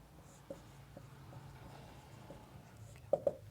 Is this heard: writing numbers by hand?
yes